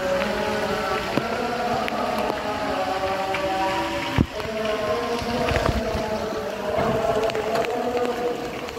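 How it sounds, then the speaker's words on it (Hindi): Steady rain with water flowing and draining, a continuous broadband wash with a few sharp knocks, heard alone at moderate level with no talk. "दोबारा से बारिश शुरू हुई है तो पानी हमारा निकल तो रहा है लेकिन थोड़ा रुका हुआ है।"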